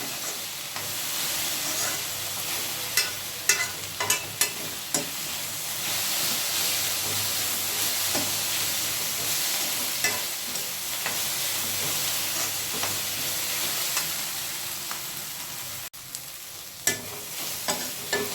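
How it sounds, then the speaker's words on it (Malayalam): Okra mizhukkupuratti with a little Kashmiri chili fries in a pan, giving a steady, close sizzle and hiss throughout, broken by scattered clicks and scrapes of stirring. "ഒന്നും കൂടി ഫ്രൈ ആകും"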